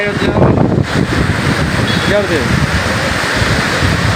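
Loud, blustery wind roars into the microphone during rain in Hyderabad, a constant rushing buffet with a brief squeal partway through.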